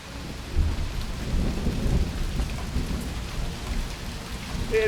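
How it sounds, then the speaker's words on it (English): Thunderstorm on a Rocky Mountain National Park hiking trail, with low thunder rumbling beneath a steady, close roar of hail and rain, swelling and easing without a break. "this thunderstorm decided to open up on us"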